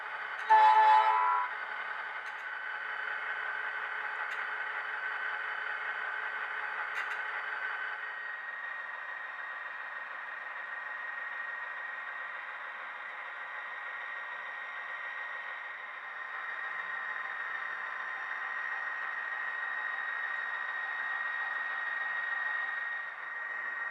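An HO scale Southern Pacific GP35R model locomotive, with a speaker in the radiator area firing down through the bottom of the shell, gives a brief horn-like blast, then a steady, thin diesel drone that runs alone throughout.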